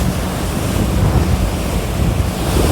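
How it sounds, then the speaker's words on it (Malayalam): A ship's bow slicing through deep blue open sea, churning up white foam; a loud, continuous rushing wash of water and spray blended with strong wind noise, close by and with no speech. "കപ്പൽ കീറി മുറിച്ച് പോവുകയാണ്, കടൽ വെള്ളത്തിലെ കീറി മുറിച്ച് പോവുകയാണ്. അതിൻ്റെ പതയാണിത്."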